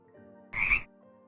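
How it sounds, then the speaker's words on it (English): Frogs croak in Minecraft, one short loud croak standing out over a faint, steady ambient hum. "Frogs."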